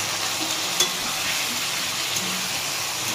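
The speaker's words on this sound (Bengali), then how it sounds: "এবার দিয়ে দেবো মশলার জলটা" Spice water poured into a pan of frying tomato and ginger for a fish, cauliflower and taro curry, giving a steady close sizzle and stir with faint bubbling, no voices.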